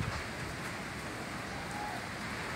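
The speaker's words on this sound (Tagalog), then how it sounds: "Grabe, ang lakas ng ulan." Dense, steady hiss of heavy typhoon rain pouring down, constant and enveloping with no breaks.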